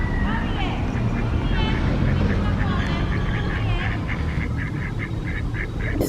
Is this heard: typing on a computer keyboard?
no